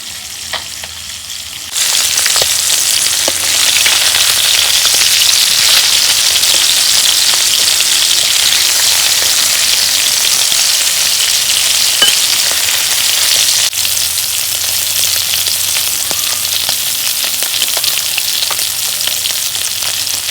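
Spiced fish sizzling in hot oil after being turned to fry the second side, a loud, continuous crackle from close by with occasional faint stirring or scraping and no talking.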